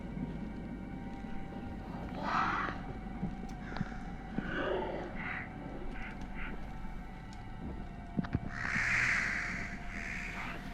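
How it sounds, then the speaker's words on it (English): Crows caw at intervals in the horror game Don't Scream: several harsh calls come in a few separate bursts over a low, steady ambient hum. "That crow event maybe happens too much"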